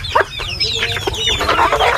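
Desi village chickens cluck loudly and busily while competing over feed, close up, with overlapping rapid calls and squawks and no talk.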